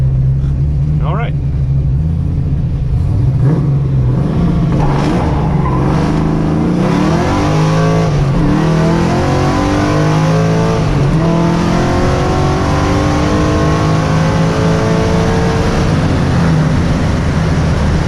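A car with a freshly repaired engine accelerates hard on a concrete test run, its loud engine note climbing in rising harmonic sweeps through several gears, with a brief tire squeal near the start and a voice talking over it.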